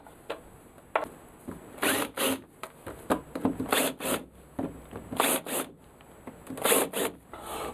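Wooden radius sanding block jig worked by hand, giving repeated rasping strokes in short bursts with brief pauses between them, close and moderately loud with no voices.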